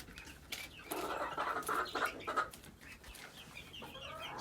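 Young roosters and chicks clucking together in a flock, with overlapping clucks and chirps. They sound close and steady throughout, with no talking.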